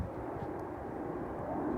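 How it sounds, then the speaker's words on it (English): A steady, broadband roar of an airplane passing overhead, heard outdoors beside a parked 2021 Ford Ranger Lariat, fairly loud and continuous with no talking. "Planes."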